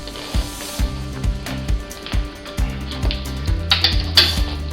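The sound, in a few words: tightening hub motor spacer with an adjustable wrench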